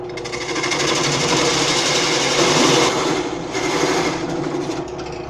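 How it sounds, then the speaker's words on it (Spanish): A bench drill press with a 35 mm Forstner bit bores a blind hole, giving a loud, continuous whirring grind that dips briefly midway and then resumes, steady and close, with no speech. "Instalado la broca tipo Forstner de 35 milímetros en mi taladro de banco para mostrarles cómo se realiza una perforación ciega."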